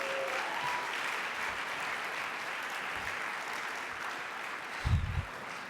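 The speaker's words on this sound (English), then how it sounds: "How about a big round of applause for all the awardees?" An audience at a health heroes awards evening applauds the awardees. The clapping is steady and even but fairly quiet and distant, with a brief low thump near the end.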